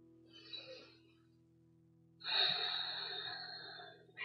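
Slow, deep breaths through the nose during a yoga session, one soft airy breath followed by a longer, stronger one, close and quiet with no talk.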